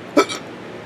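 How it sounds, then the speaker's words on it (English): One sharp, close hiccup followed by a weaker catch of breath, brief and alone in a quiet room. "got your damn hiccups"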